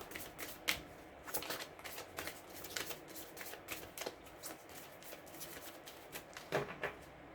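Tarot cards riffle and slap together in a steady run of crisp, close shuffling bursts, with a sharper cut near the end and no voices.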